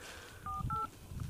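A short burst of telephone keypad tones: a few electronic dialing beeps in quick succession, fairly clear over a low background hum.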